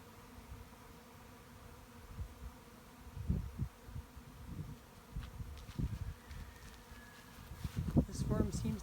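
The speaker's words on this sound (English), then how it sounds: "a hanging ball of bees" A swarm of honeybees in a Humboldt County neighborhood hums steadily as the mass condenses into a hanging ball, the low buzz rising and falling with louder bursts near the end, mixed with faint background noise.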